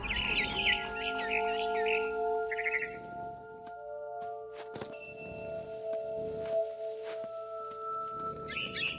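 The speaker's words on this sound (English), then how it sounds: "I heard chirping outside my window. It was a barn swallow going back to her nest." A barn swallow chirps in quick bright twittering bursts outside a window in a quiet house scene in the video game What Remains of Edith Finch, over a low steady hum, with a soft clink and faint shuffling afterward.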